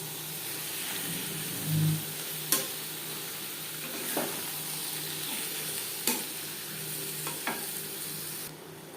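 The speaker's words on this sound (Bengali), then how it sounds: "মশলার সাথে তিন চার মিনিট মেটে কষিয়ে নেওয়ার পর" Mutton liver fries with spices, onion and garlic for a liver and potato curry, a steady close sizzle with an occasional sharp tap or scrape of the spatula against the pan and no talk.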